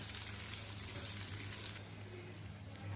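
Sliced long onions and curry leaves sizzle in hot oil for an onion curry, a steady close hiss of frying with a constant low hum beneath and no voices.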